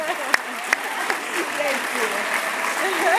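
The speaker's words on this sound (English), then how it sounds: "another round of applause for" Applause from a dinner audience at an award event, a steady bed of clapping with a few sharp isolated claps standing out, while voices talk over it.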